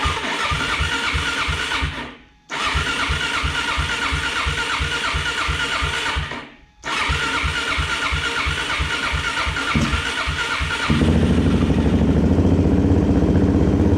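A Suzuki DRZ400E motorcycle with a new lithium battery cold-starts on full choke: rhythmic starter cranking in two bursts with short pauses, then the single-cylinder engine catches and settles into a loud, steady idle.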